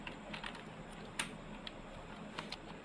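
Light, quiet keystrokes tap out C++ code on a computer keyboard, a handful of irregular clicks with one sharper key press, alone with no talk.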